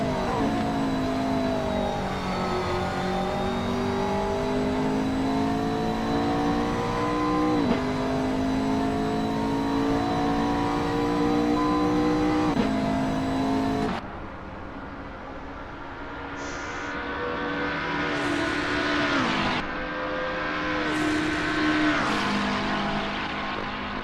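Porsche GT race car engines at Monza in a racing video game, a loud sustained howl rising and falling through gear changes, then a quieter stretch with sharp revving bursts as cars accelerate past.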